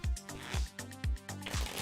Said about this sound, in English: you don't feel like watching all the shuffling I'm about to do